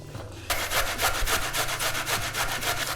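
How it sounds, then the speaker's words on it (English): Peeled ginger is rubbed on a small kitchen grater in quick, even rasping strokes, close and steady for several seconds without talk. "Again, we peel the ginger, so we'll grate it also with the small one."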